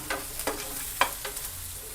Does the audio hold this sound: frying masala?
yes